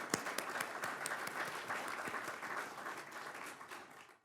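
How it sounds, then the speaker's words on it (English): Audience applause fills an award ceremony for a health AI challenge, dense steady clapping from a large crowd that holds for about four seconds before thinning out at the end. "Big round of applause for all of them."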